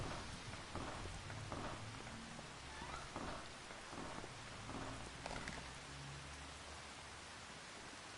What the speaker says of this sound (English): It's pouring rain again.